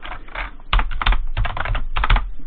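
Someone types an email address on a computer keyboard, with quick clusters of close, crisp key clicks in short bursts and brief pauses between them, and no voice over the typing.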